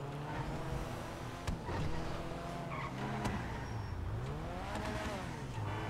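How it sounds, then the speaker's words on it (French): A budget tuning sedan skids in a car video game, its engine droning steadily while tire squeal swoops up and down in long sliding arcs. "Alors déjà, le véhicule dérape beaucoup."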